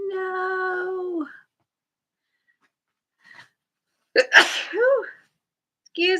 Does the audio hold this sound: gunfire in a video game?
no